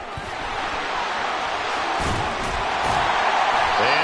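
A home crowd at a football playoff game cheers in a stadium, a broad continuous roar that swells slightly toward the end, with talk over it.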